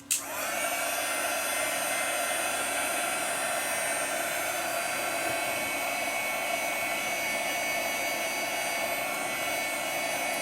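A hair dryer blows steadily on fast-drying gesso on an altered book journal page, a loud continuous whooshing roar that switches on abruptly and holds without pause.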